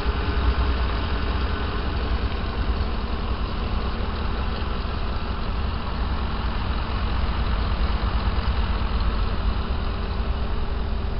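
Ford F-150 with a 5.4-liter Triton V8, a 2010 Harley-Davidson Edition pickup, idling steadily just after start-up; a continuous, even low rumble close to the microphone with no talk over it.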